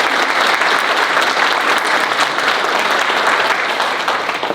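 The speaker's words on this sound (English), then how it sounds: "Go give them a round of applause." Steady, dense applause from an audience at a graduation ceremony, loud and sustained throughout before tapering slightly at the end.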